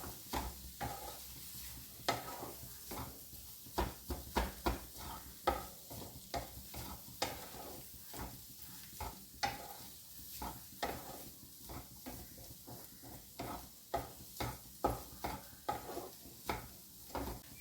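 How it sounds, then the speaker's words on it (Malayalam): A utensil scrapes and clacks repeatedly in a pan as vegetables and egg are stirred over low sizzling, in an uneven, busy rhythm of close, moderate knocks. "അപ്പം നമ്മളിനി വെജിറ്റബിൾസ് എല്ലാം കൂടെ ചേർത്ത് നന്നായിട്ട് ഇളക്കുക"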